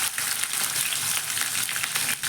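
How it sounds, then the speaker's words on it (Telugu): Onion and green chillies frying in hot oil with cumin seeds for a tomato and dried prawn curry, a loud, dense, continuous sizzle close up with no talk. "జీలకర్ర కొంచెం ఫ్రై అయినాక అందులో ఆనియన్ పచ్చిమిర్చి వేసుకోవాలి."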